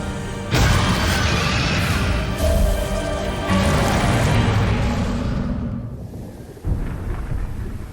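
Thunderstorm in a Throne and Liberty fantasy game cinematic: loud rolling thunder crashes over steady heavy rain, with a fresh boom near the end, no voices.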